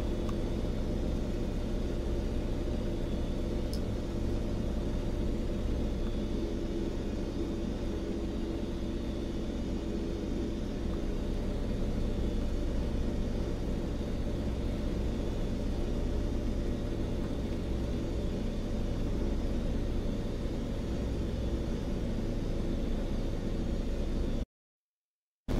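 Steady, loud drone of an Antonov AN-2 radial-engine biplane in flight, a dense continuous rumble and roar holding unchanged from start to finish with no talk over it.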